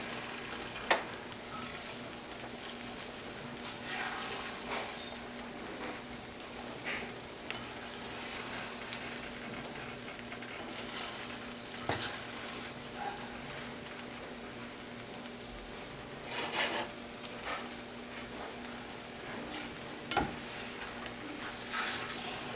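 Eggs frying in a pan, pushed around with a utensil: a soft, steady sizzle runs throughout, with occasional light scrapes and taps, fairly quiet and without speech.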